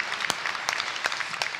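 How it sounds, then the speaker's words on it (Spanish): An audience at a Chilean Air Force aeronautical museum event applauds, a brief dense wash of clapping with a few sharper claps standing out. "Brindemos un fuerte aplauso a esas imágenes."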